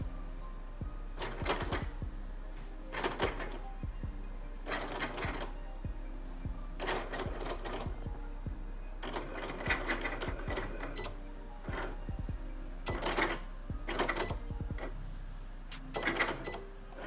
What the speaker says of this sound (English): And now I'm going to press the Cricut button,